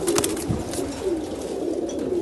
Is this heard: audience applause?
no